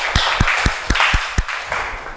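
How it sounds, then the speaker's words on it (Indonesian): A group that has just presented gets applause in a classroom, heard as a run of separate claps at an uneven pace, close and fairly loud. "tepuk tangan dulu buat kelompok ini ya"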